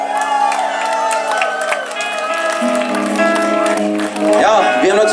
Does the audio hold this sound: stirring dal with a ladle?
no